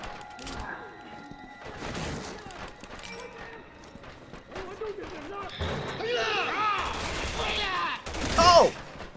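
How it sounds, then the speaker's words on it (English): Gunfire from the Resident Evil 6 video game, irregular shots and bursts mixed with impacts and game effects, with players talking over the action throughout. "Wow, that was a good shot, Pierce."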